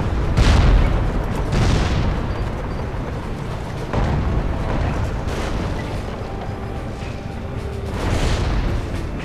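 Grenade explosions in the shooter game Crysis: four heavy booms at irregular intervals, each rising out of a loud, constant rumble of battle noise.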